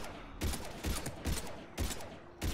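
Bursts of gunfire crack out in Mass Effect 3 during a firefight with husks, several sharp, loud volleys in quick succession with short gaps between them.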